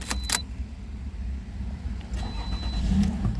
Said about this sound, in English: the car is start and shut off